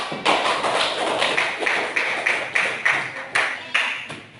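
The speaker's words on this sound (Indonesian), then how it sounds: "Tepuk tangan dulu buat" Classroom applause from a group of students, a loose series of sharp claps and taps in uneven bursts, fairly close and with no speech over it.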